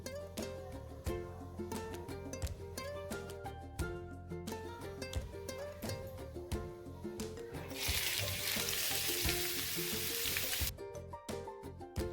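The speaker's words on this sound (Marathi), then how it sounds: "आपल्याला कांदा आणि लसूण सोनेरी रंग येईपर्यंत परतून घ्यायचे आहे" Sliced onions and four or five garlic cloves frying in a pan in a home kitchen until golden, a steady sizzle that swells loudly for a few seconds over background music, with no one talking.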